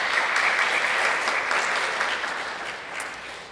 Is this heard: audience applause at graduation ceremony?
yes